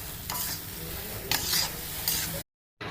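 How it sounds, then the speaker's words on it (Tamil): Mutton being stirred in a sizzling pan for mutton chukka, with a steady fry and a few scraping strokes before a brief silent gap. "இப்போ வந்து நம்ம எடுத்து வச்சுருக்க மட்டன் இதை வந்து நல்லா கிளறி விட்டுட்டு"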